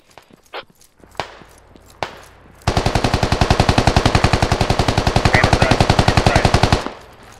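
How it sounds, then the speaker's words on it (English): AK rifle firing in a Battlefield squad game, a few scattered single shots followed by a long, loud, rapid automatic burst of about four seconds that cuts off abruptly, close by. "I think that's an AK. Yeah, that's an AK."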